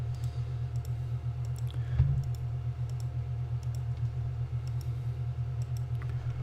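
Mouse clicks while selecting objects in multi-user construction software, repeated sharp ticks scattered across the clip over a steady low electrical hum, with one louder knock near the middle.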